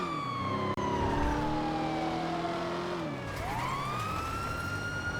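Wailing siren of a police car in a video game, sliding down then sweeping back up over a loud engine that drops and revs, with a brief click near the start and no speech.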